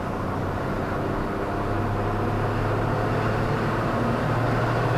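A Toyota GR Corolla engine hums at partial throttle while driving, a steady low drone mixed with road noise that holds even throughout, with no speech.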